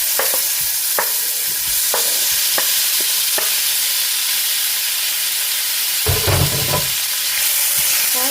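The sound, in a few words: tomato frying in a pan for black urad dal chutney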